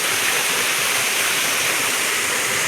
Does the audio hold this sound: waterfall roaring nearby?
yes